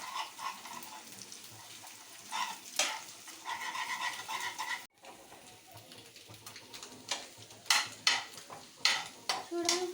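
Egg frying in a pan for street-style egg Maggi, a low sizzle broken by repeated scraping stir strokes of a spatula against the metal, close by, growing busier toward the end.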